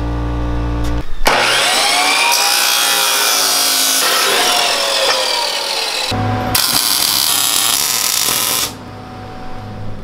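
A power saw cuts steel pipe for a twin 18hp engine buggy frame. The cutting is loud and close, with a harsh grinding whine that runs for several seconds, breaks off briefly, then resumes and stops.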